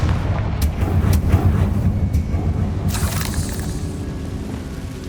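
Confringo blasting spell in Hogwarts Legacy: several sharp cracks and bursts over a rumbling, churning low roar, with a brighter whooshing blast near the three-second mark, loud and close with no speech.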